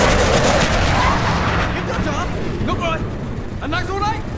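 Explosions from a bomb run in Call of Duty: Black Ops form a dense, loud, continuous barrage of booms and gunfire, with radio-style voices talking over it.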